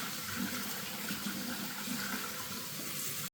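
Cool tap water runs from a faucet over boiled eggs, a steady close splashing stream that holds constant without talk before stopping abruptly.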